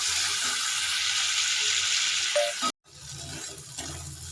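Prawns fry in hot oil in a pan with a loud, steady sizzle that cuts out abruptly, then resumes as a quieter, softer crackle.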